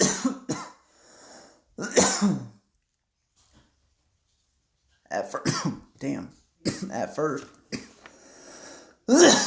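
A person coughs harshly a few times near the mic while using a quartz glass piece for vapor, with bursts of speech before and after and a quiet pause in the middle.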